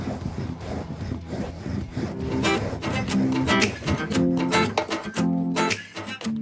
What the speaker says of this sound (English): we're cutting in a bunch of slices for the pieces that we're working on